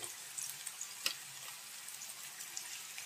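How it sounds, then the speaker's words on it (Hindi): Maggi noodles with masala frying in a pan make a soft, continuous sizzle with light, scattered clicks and scrapes from stirring, quiet and close, with no speech. "इसलिए थोड़ा देर और फ्राई करती हूँ।"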